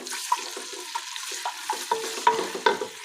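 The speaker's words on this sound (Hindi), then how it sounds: "इसमें हम डालेंगे लहसुन अदरक का पेस्ट और इसे हम 30 सेकंड तक इसे फ्राई करेंगे" Garlic-ginger paste fries in hot oil on a high flame. A bright, close sizzle is broken by repeated sharp clinks and scrapes of a spoon stirring the pan.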